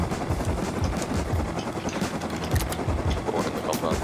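A helicopter in the video game Rust thrums with a loud, continuous rotor chop and engine roar that fills the scene, while a voice talks over it.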